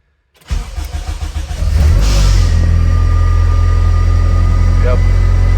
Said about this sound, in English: I've never seen anybody do it and have the car actually start up and run